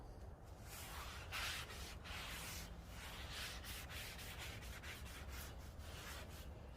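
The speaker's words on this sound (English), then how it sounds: "what we got to do is wipe it down real good and then put a coat of oil on it" A paper towel rubs back and forth across a hot Blackstone griddle surface, a steady close scratchy swishing with rhythmic strokes, faint and continuous, no talking.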